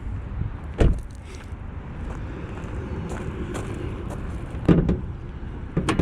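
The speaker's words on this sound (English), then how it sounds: "Let's pop the hood first." On a Mazda 3, the hood is popped open with a couple of sharp clunks from the latch and release. Each clunk is brief and close, separated by quiet shuffling.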